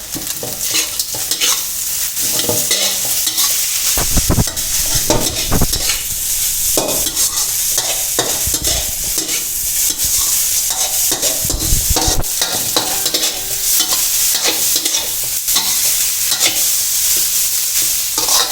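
A spatula stirs and tosses Chinese sausage fried rice in a hot pan over high heat, giving steady sizzling with repeated scraping and clattering strokes, close and loud, with no talking.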